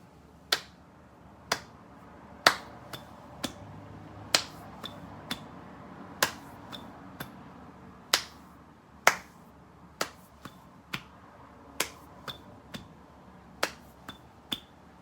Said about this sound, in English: I'm going to just clap the pattern first before I put the poem on